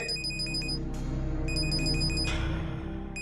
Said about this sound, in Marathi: फोन आहे रे. घे ना, बघ ना कोण आहे ते.